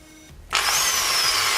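After a short quiet moment, a vintage Peugeot electric drill whirs to life with a steady, high-pitched motor whine that continues to the end.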